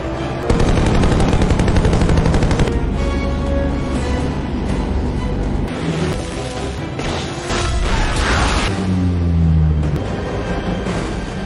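Loud, sustained gunfire from an action film scene, rapid automatic bursts and shots pounding continuously over roaring noise and crashes, dense and close throughout with no speech.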